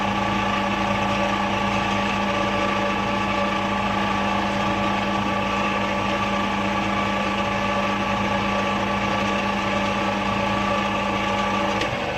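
Lathe turning drip tips at about 1100 RPM, a loud continuous motor hum and whine with steady tonal drone throughout and no voices.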